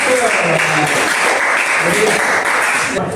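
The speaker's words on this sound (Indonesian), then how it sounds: "Tepuk tangan Firjana." Steady applause from a group of people, dense clapping that fills the whole moment with a faint voice or two underneath.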